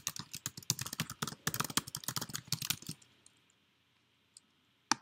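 Rapid typing on a computer keyboard produces a dense burst of close, crisp key clicks for about three seconds, then quiet with a lone key tap near the end.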